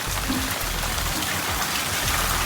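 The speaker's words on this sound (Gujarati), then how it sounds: "ફૂલ વરસાદ ભક્કમમાં આવે છે." Heavy rain pours down outdoors in the evening, a steady, dense hiss of drops striking the ground and nearby surfaces, continuous and close with no speech over it.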